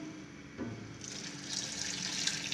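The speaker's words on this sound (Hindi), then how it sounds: "अब इसमें मैं पानी शामिल करूँगी।" Water poured from a glass into a cooking pot of turnip and meat curry with spices, a soft splashing pour that builds and brightens over a couple of seconds, no talk.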